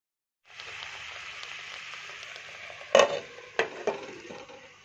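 Mixed vegetables with turmeric and salt being stirred in a pan over a medium gas flame, a soft steady sizzle broken by a few sharp scraping clacks of the spoon near the end.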